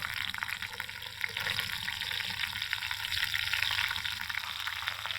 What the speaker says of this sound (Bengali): ফ্রাই প্যান বসিয়ে দিয়েছি ডিমটা ভাজার জন্য। ডিম দিয়ে দিয়েছি তেলের মধ্যে।